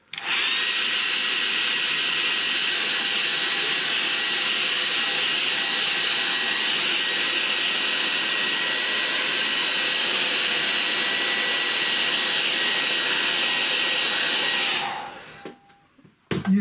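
Hair dryer blowing steadily on a watercolour painting, a loud continuous whir held at close range for about fifteen seconds before switching off and winding down.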